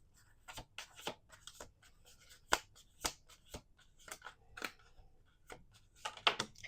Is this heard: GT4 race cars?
no